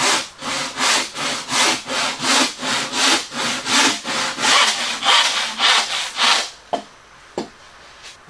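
A hand saw cuts through wood clamped at a workbench in steady back-and-forth strokes, about fifteen loud, rhythmic rasps close by, then the sawing stops and a couple of light knocks follow.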